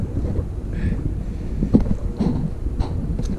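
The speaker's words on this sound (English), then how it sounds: "And it's really windy" Wind buffets the microphone in steady low rumbling gusts, with a few faint voiced sounds underneath.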